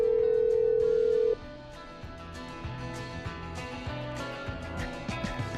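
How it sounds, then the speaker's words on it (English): A steady dial tone from a phone in Killer Frequency cuts off and gives way to a dialing sequence over a low, repeating in-game background hum, with no speech. "I'm dialing."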